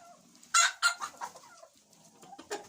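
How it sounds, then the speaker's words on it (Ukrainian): Roosters and hens cluck and squawk in a yard on a snowy, rainy day, with a few loud bursts and softer scattered calls close by, no talk. "Півники, кури всі посідали."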